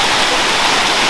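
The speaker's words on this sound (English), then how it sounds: "apparently our wedding has brought the rain" Heavy rain pouring during a thunderstorm at a wedding, a loud, dense, unbroken hiss of falling water heard alone.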